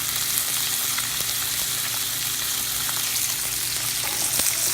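Salmon fillet frying slowly in a hot pan for crispy skin, giving a continuous, even sizzle and crackle close by, with faint spatters and no voices.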